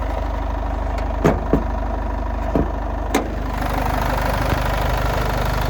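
A 2011 Mitsubishi Outlander XL's 2.2-litre 115 kW diesel engine idles steadily with a constant low rumble and knocking, with a few sharp clicks and taps over it.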